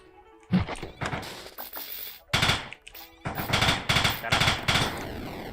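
Pistol shots in a video game, sharp bursts of rapid fire across the clip with brief pauses between volleys, loud and close.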